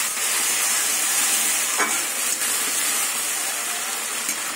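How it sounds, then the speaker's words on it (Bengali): Potatoes and onion sizzle steadily in hot oil after a tomato, ginger and garlic paste is added, a loud, continuous frying hiss with occasional stirring scrapes. "এবার কিছুক্ষণ মশলা দিয়ে আলু দিয়ে কষিয়ে নেব"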